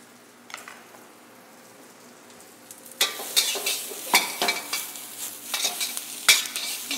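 Food sizzling in a wok while prime rib and baked ham are cooked, a soft fry at first, then louder crackling and spitting bursts with stirring clatter from about three seconds on, close and without talk.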